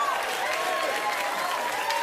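Sustained applause from a late-night talk show studio audience, dense clapping with a few whoops, steady throughout.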